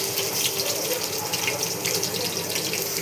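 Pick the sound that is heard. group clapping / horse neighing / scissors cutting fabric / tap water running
tap water running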